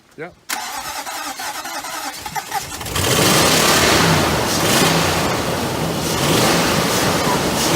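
A 2006 Nissan Titan truck engine, flooded, cranks briefly and catches, then runs loud and steady. Voices speak over the start.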